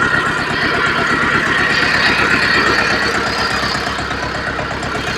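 A small walk-behind tractor engine, pulling a cultivator for digging potatoes, runs steadily at close range, a loud, even chugging drone with a rapid rhythmic knock and no change in pace.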